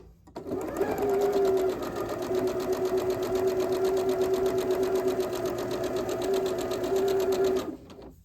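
A sewing machine stitches a quilt block through a quarter-inch foot with a seam guide, giving a close, steady whirring hum that runs unbroken for about seven seconds before stopping.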